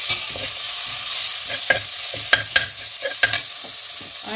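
Garlic, chilli, ginger and tomato fry in a pan, a steady close sizzle broken by several sharp scrapes and knocks of stirring.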